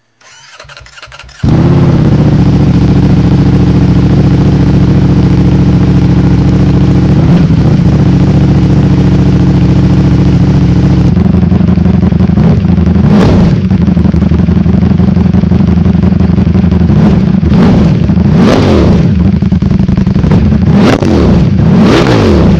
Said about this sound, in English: So that's a Termignoni slip-on exhaust on a 2023 Panigale V4. Sounds pretty good.